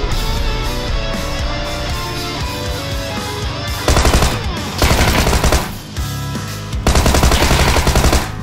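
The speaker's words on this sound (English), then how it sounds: "Go, rush Tommy gun." Rapid bursts of Tommy gun fire in the battle royale game PUBG, loud and close, with sustained automatic volleys separated by short pauses over a game music background.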